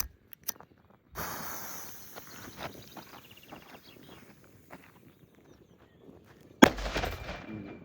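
An FP3 small firecracker goes off on a padlock outdoors, with a sharp, loud bang late in the stretch after an earlier burst and scattered faint ticks and shuffling.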